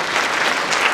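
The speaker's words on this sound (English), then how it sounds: "Let's give a big round of applause for the snowbank." Audience applause at a middle school winter concert, a steady wash of many hands clapping at moderate loudness for about a second, with no voices over it.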